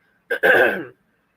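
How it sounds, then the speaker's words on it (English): A single throaty cough, short and close, with a quick catch before the main rasping burst. "Excuse me for all this snotty sounding coughing"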